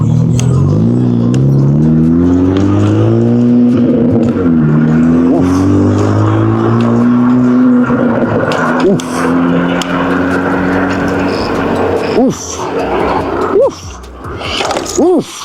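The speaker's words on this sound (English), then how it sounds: "that car exhaust" A Honda Civic's exhaust revs at a stop sign, a loud rising and falling engine drone held for several seconds, then fading as the car moves off, with a few brief bursts near the end.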